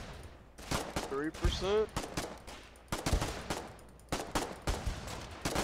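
Rifle fire in the Foxhole war game cracks out in sharp, repeated shots at an uneven rhythm, mixed with other battle noise while a voice speaks briefly.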